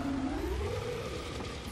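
A drawn-out, moaning monster cry from the Killing Floor 2 game, a low wavering howl that bends upward and fades over under two seconds, heard alone.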